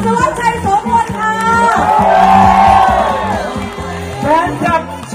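A crowd of supporters cheers and whoops at a Pheu Thai political campaign rally in Chachoengsao, Thailand, a loud swelling roar with shouting over an amplified announcer's voice and rhythmic music.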